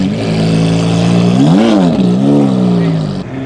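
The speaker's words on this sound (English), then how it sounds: "Gotta love a Lamborghini V12." A Lamborghini V12 engine revs up and down in a rising and falling sweep at a supercar meet, loud and close, with a deep sustained roar throughout.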